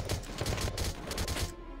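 Rapid gunfire from the video game Valkyria Chronicles, a loud, dense string of repeated shots in quick succession before cutting off sharply.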